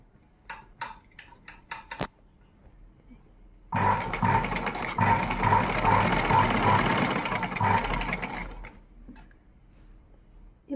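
Electric sewing machine stitching the folded-in lining of a red two-layered gathered frock, a steady loud whir running for about five seconds after a few light clicks, then stopping.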